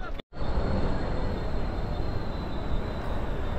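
A Mumbai local train bound for Virar gives a loud, steady rumble that fills the clip after a brief moment of silence at the start.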